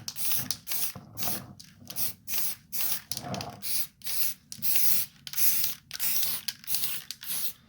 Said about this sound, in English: I just want to spray the side, take off the silver.